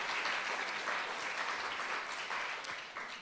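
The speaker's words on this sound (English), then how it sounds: "you have to clap." Audience applause for a city poet at a literary talk, a dense, sustained wash of clapping filling the room at moderate volume with no speech over it.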